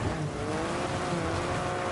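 Rally car engine in the WRC 10 video game, a steady droning drone with tonal harmonics held at high revs, fairly loud and continuous with no talk over it.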